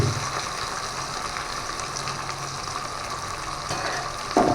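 Onion and ginger paste fry in a pan for khichuri, making a steady close sizzle with soft stirring scrapes throughout and a brief louder clatter near the end.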